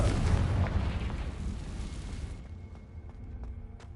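A Confringo spell blast in Hogwarts Legacy, one loud booming explosion at the start that rumbles and decays over a few seconds, followed by faint scattered pops.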